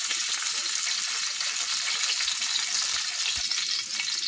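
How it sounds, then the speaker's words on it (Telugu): Mustard seeds fry in hot oil for an Andhra fish curry tempering, giving a dense, constant close sizzle with fine crackling pops and no talking. "ఆవాలు కొంచెం ఎక్కువ వేస్తాను. ఇదిగోండి ఆవాలు కొంచెం, ఇవి వేగేదాకా ఉంచండి."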